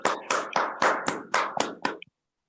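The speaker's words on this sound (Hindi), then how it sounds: "जबरदस्त तालियों के बीच" Audience applause welcoming a speaker at a soil health training event, about eight sharp, close hand claps in an irregular rhythm over two seconds, then an abrupt stop into silence.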